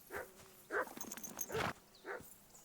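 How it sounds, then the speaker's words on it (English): Horse hooves clip-clop in the medieval video game Kingdom Come: Deliverance II, four distinct, fairly close steps spaced in an uneven walking rhythm over quiet background. "Horse."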